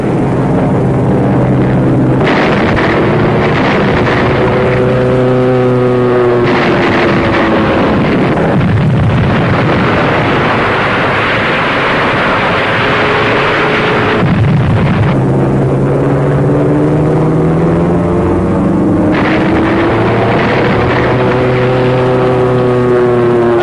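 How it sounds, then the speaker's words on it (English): Wartime newsreel soundtrack of bombs falling on a derelict decoy truck: loud, continuous roaring engine and blast noise with repeated swelling whines and heavy rumbling bursts, dense and distorted throughout. "A derelict truck placed as a decoy takes the lot. A good bomb has destroyed a bad truck."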